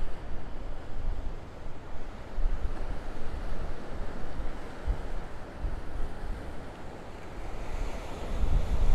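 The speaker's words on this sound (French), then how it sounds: "Juste devant la mer." Sea waves washing onto the shore in Tenerife, a steady broad roar of surf with wind buffeting the microphone, rising slightly louder toward the end.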